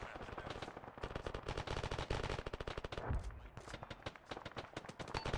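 Sustained gunfire from a military video game, dense rapid automatic bursts with a heavier thump near the middle, loud and continuous throughout with no talking.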